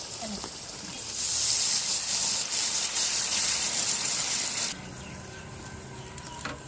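Hot water pours into a cooking pot during the braising of a duck curry, a loud hissing gush lasting several seconds before cutting off abruptly, leaving quieter kitchen sound.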